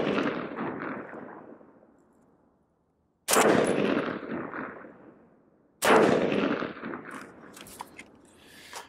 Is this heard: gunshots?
yes